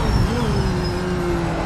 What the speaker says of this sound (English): Downshifting sounds great.